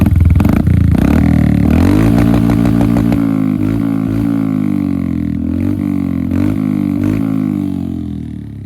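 A Royal Enfield Hunter 350 motorcycle fitted with an HK aftermarket exhaust revs loudly up close, its throaty idle rising into a few sharp throttle blips before settling and slowly fading toward the end.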